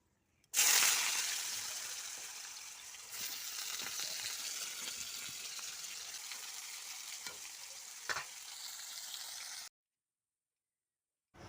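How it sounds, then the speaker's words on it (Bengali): Potatoes frying in a pan, a steady broadband sizzle that starts abruptly and holds loud and close for about nine seconds with a brief stir or clatter near the end, then cuts to silence. "তো আমি এদিকে আলু ভাজছি"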